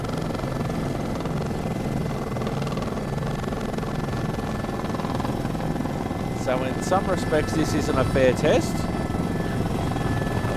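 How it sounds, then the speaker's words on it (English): A helicopter in Microsoft Flight Simulator, a steady whirring rotor drone running throughout under a voice, with a louder fluttering swell near the end. "there is a helicopter that is freely available"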